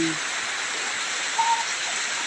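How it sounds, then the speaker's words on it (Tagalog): Heavy rain pouring steadily on an afternoon, a dense continuous hiss of falling water that is uniform and moderately loud, with a faint brief tone briefly audible in the background. "Ayan, sobrang lakas na ng ulan guys."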